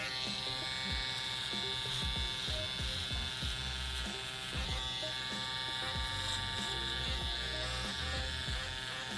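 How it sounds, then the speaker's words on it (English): A barber's electric shaver cleans up the remaining hair on a low fade with a hard part comb over, giving a close, steady, continuous buzz with no talking. "So now I'm about to use my shaver to remove whatever is left"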